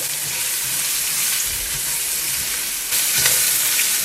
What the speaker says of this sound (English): Toss it around with the onions and garlic for a while so they get to cook up a little bit